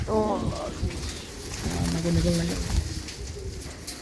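Pigeons coo in low, soft rolling phrases, a couple of bursts heard close by over a faint rainy hiss, with a voice talking briefly alongside.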